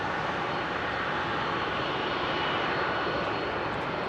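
An ITA Airways Airbus A320-200 with CFM56 engines departing Heathrow at sunset gives a steady, loud, broadband jet roar that holds for the whole stretch with no voices.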